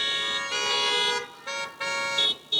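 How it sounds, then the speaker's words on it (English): Several car horns honk together at an outdoor drive-in graduation ceremony, a layered chorus of tones in bursts with brief gaps, loud and fairly close, without speech. "you can honk your horn if you know what it is"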